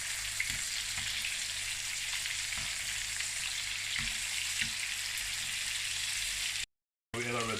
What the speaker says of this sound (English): Let's cook the squash.